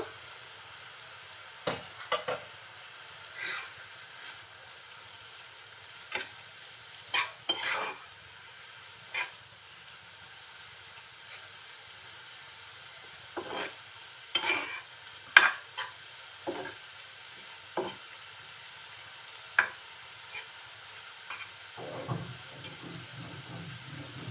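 Ghee kanchan greens being stirred while they fry, sparse scraping and clattering strokes of a spatula against the pan over near silence, with a faint sizzle and hiss between strokes.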